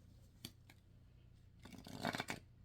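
Tarot cards with smooth matte cardstock are shuffled by hand in short soft riffling bursts, one near the start and a longer flurry toward the end, close and quiet with no talking.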